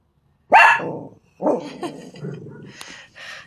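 Dogs bark at a dog park: a sharp, close bark opens, then several shorter barks and low growls follow in an uneven burst, with no people talking.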